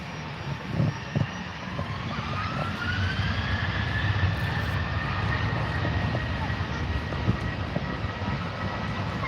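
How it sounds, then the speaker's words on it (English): A Ryanair jet airliner beginning its takeoff roll at Manchester Airport, a steady engine roar with a rising whine building in the distance, with people talking in the foreground. "Ryanair's about to start its roll"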